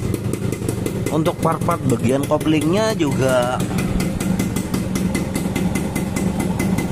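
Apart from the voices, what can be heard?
Suzuki Satria motorcycle idling with new exhaust from Malaysia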